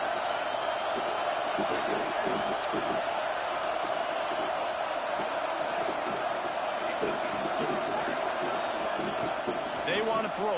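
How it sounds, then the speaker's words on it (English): A stadium crowd in College Football 26 keeps up a steady, dense roar during a Tennessee versus Texas A&M game, with a voice talking over it. "This crowd bringing the energy and noise early."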